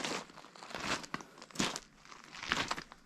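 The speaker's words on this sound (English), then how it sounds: "You can probably hear my feet crunching on all the river rocks." Footsteps crunching over river rocks at a quiet outback camp spot, a faint, irregular series of gritty crunches and scrapes close by with no talking.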